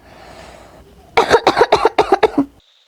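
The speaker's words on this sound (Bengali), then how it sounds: "কাশির ধরন তো মারাত্মক, মনে হয় হোপিং কাশি" A cartoon character's harsh whooping-cough fit: about seven rapid, loud hacking coughs in a burst, each sharp and close, following a quiet stretch and ending with a brief high tone.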